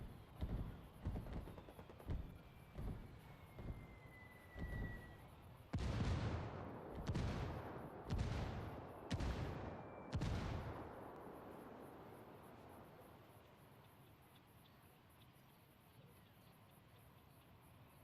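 Mortar fire in Ghost Recon Wildlands Ghost War: a run of rapid distant thumps gives way to five heavy booming blasts spaced about a second apart, each rolling out into a long fading rumble.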